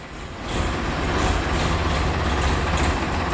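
A tractor engine rumbles steadily and loudly close by as it backs up slowly, a continuous heavy low drone with no talking.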